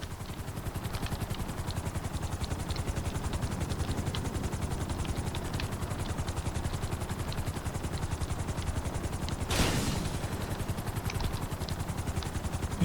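Helicopter in GTA 5 setting down on a helipad, a loud, steady rotor thump with rapid rhythmic chopping throughout and a brief rushing swell midway, close and continuous without speech.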